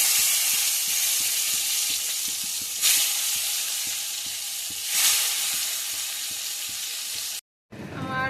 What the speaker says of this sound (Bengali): এখানটায় দেখো এখন তেলে আমি বেগুনগুলো দিয়ে দেবো